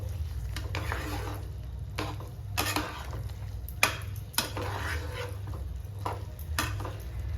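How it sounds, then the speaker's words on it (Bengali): Peas and tomato masala sizzle in a frying pan while a spatula stirs through them, with a steady frying hiss and periodic scraping knocks against the pan. No voices are heard. "মটরশুঁটিটা দিয়ে দিলাম, ভালো করে নেড়ে দেবো"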